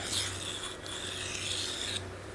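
Steel blade rasped back and forth on a Naniwa Superstone 400 water stone under heavy pressure, a steady close gritty scraping with brief breaks between strokes.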